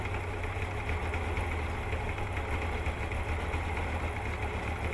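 A Yamaha 40 outboard boat motor, model 6H4, idling smoothly, with a steady low rumble and faint mechanical ticking running evenly throughout, no voices over it.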